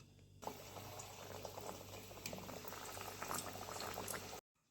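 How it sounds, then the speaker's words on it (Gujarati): Kachori deep frying in hot oil over a medium gas flame, a dense bubbling sizzle with scattered crackles, close and steady, cutting off abruptly at the end. "હવે આપણે તેને તેલ મૂકી દીધું છે, તેમાં મીડિયમ ગેસની ફ્લેમ પર તળી લઈશું."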